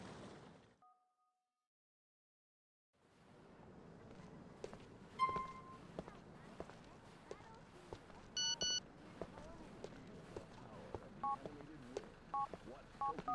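Telephone keypad tones from a number being dialed in a video game, a quick run of clean beeps after a brief silence, with soft in-game footsteps and ambience underneath.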